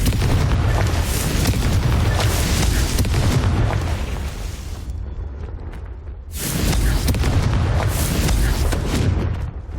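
In Hogwarts Legacy, a Confringo spell blast erupts as a loud, sustained explosive roar lasting several seconds, breaks off in a brief lull, then surges back with another heavy rumbling burst.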